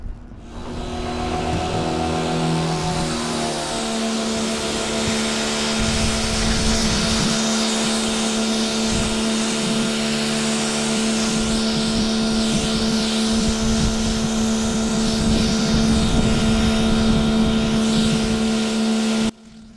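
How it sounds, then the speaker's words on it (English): An old, worn power washer runs steadily and loudly beside a Carolina Skiff Sea Chaser boat, its motor holding a sustained droning whine from start to finish, with no talking over it. "That power washer has seen better days"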